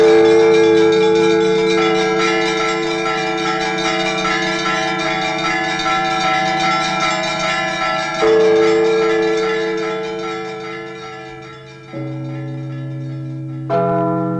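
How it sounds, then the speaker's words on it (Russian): Church bells ring out in long, resonant overlapping peals, their tones hanging and decaying, with fresh strikes renewing the sound near the end. "и древние колокольные звоны"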